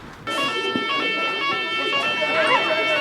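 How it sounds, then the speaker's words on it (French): School fire drill alarm ringing continuously, a loud sustained electronic tone that fills the whole span, with children's voices and movement mixed in underneath. "On était en train de travailler et après ça a sonné, c'est pour faire un exercice au cas où il y a un vrai feu"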